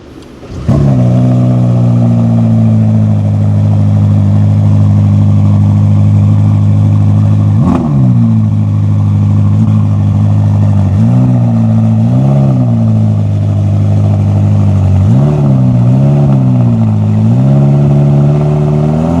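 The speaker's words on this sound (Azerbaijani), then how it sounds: "Millət, hal-hazırda sizə Ferrari SF90 XX Stradale'nin səsini qulaq asdıracağam." A Ferrari SF90 XX Stradale engine idles loud and close, then blips sharply with several quick revs toward the end, its deep steady drone running throughout without any talking.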